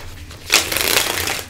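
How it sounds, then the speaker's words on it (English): A deck of tarot cards is shuffled by hand in a short, dense riffle of papery flutter and slapping, loud and close, lasting about a second. "Let's shuffle that back in."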